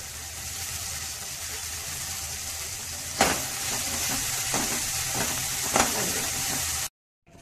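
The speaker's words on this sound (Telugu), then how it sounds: "కరివేపాకు వేయించుకుందామండి" Curry leaves and coriander fry in a pan for a ridge gourd chutney, giving an even, moderate sizzle with a couple of sharp crackles before stopping abruptly.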